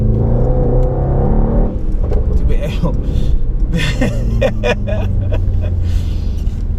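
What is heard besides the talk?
670hp race car driving on the road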